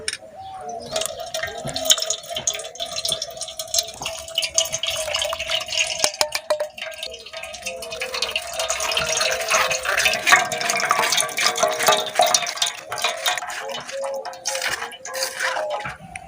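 Grape pulp is pressed through a coarse-meshed sieve into a bowl, producing continuous close wet squelching and dripping mixed with light metallic clinks and scraping against the utensil.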